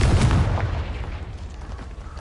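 A Confringo blasting spell goes off in Hogwarts Legacy, a loud booming burst at the start that fades into a low, rumbling tail.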